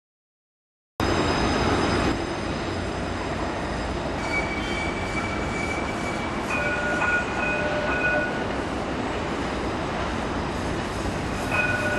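A tram ride through Bordeaux gives a steady, loud onboard rumble and rolling wheel noise. Faint tonal whines come and go, with no talk over it.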